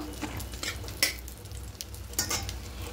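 Cashews and raisins lightly fry in a pan while a spoon stirs and scrapes the metal, giving a soft, steady sizzle with a few sharper clinks and no talking.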